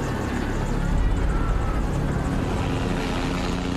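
A RAB helicopter flies overhead, its dense, continuous rotor and engine roar holding steady and loud throughout.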